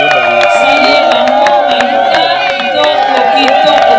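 An audience at a couple's celebration event stands and applauds, with loud, continuous crowd cheering and clapping mixed with voices throughout.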